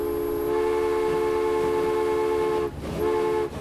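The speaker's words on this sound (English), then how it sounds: "This train here arriving at West Mersey" A train arriving at a station in the video game Transport Fever 2 gives a sustained, steady horn-like tone over low rail rumble. The tone breaks off briefly near the end and then resumes.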